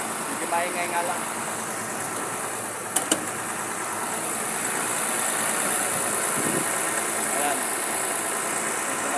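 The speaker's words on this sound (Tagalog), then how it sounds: "Saka natin ulit yung engine. Hindi maingay nga lang." A car engine idles quietly during a daily walk-around vehicle check, making a low, steady hum. It stays under a person talking close to the microphone, and a couple of brief clicks break in partway through.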